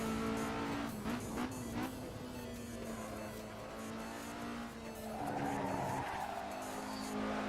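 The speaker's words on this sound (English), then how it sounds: "I'm just drifting it through these corners" A car drifts through corners in the Assetto Corsa racing game, its engine droning steadily as the tires squeal in long, wavering screeches that swell and fade, loud and continuous with no talk.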